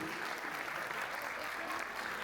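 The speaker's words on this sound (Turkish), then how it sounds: "Evet, alkışlıyoruz Güney'i." Audience clapping for a child after a piano recital, a brief, even, dense stretch of many hands applauding, steady in level, with a voice faintly underneath.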